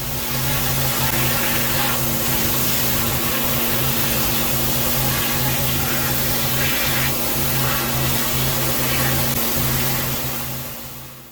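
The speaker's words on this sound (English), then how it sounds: "you can really see the angle of the flat surface cleaner cutting through" A pressure washer with a flat surface cleaner runs steadily across a blackened patio, a loud unbroken hiss and roar of spraying water with a constant motor hum beneath, fading slightly at the end.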